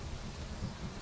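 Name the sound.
thunder during a storm in the video game Minecraft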